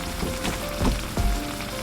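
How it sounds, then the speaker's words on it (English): Garlic fries in a pot for brown stewed fish, crackling and spitting in a busy sizzle with a few louder pops and a faint clink, close up and with no voices. "See, the garlic is burning."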